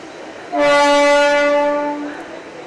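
A loud, sustained train horn blares for over a second, then fades, over a background rumble of a train moving along waterlogged tracks at Wadala in the rain.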